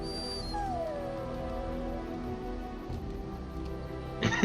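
A dog whimpers and whines in the video game Dragon Age: Origins, a thin high whimper that rises and falls near the start, with a short louder yip at the end.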